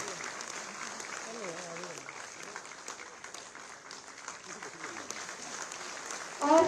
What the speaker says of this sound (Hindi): जोरदार तालियां, इनका मनोबल बढ़ेगा।